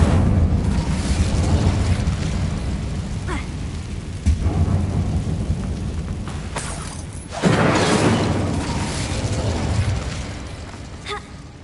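Incendio fire spells cast in Hogwarts Legacy, heard as several sharp bursts and a larger whooshing blast amid steady rumbling game ambience, the strongest eruption coming past the midpoint.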